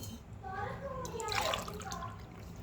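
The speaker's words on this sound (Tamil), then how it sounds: "ரெண்டு கப்பு தண்ணி ஊற்றுறோம்" Water pours into a pot in a steady splashing stream, with a voice talking quietly underneath.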